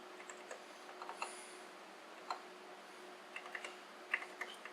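Sparse, quiet clicks of individual keys pressed on a Macintosh Plus keyboard, some keys not working, tapped one at a time at an irregular pace close up over a steady faint electrical hum, with no voices.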